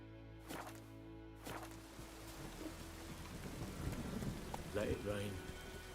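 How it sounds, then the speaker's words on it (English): Steady rain hisses throughout in The Witcher 3: Wild Hunt, with a couple of sharp cracks early on and rumbling thuds later, like a storm. "Let it rain."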